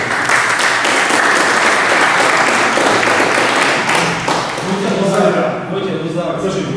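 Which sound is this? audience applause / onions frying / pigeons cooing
audience applause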